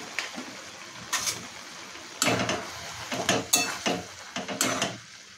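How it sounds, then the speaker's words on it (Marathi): Dried shrimp (kolim) are stirred into masala in a pan for Agri-style suka kolim, with close, irregular scraping and clattering strokes of a spoon against the pan over a soft sizzle. "आता आपण व्यवस्थित मसाल्यामध्ये मिक्स करून घेणार आहोत"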